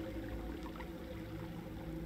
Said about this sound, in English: And the water's getting louder